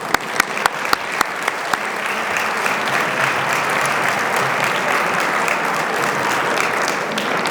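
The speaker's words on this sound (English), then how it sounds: "give our students a round of applause" Guests at an anniversary gala give the students a round of applause: a few sharp individual claps open, then swell into loud, sustained crowd clapping that holds steady.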